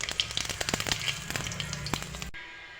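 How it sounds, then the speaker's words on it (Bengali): Cumin seeds hit hot mustard oil and sizzle sharply, a dense crackle with scattered pops, close and loud, cutting off abruptly near the end. "তেল গরম হয়ে গেছে, তো এখানে দিয়ে দিলাম জিরা।"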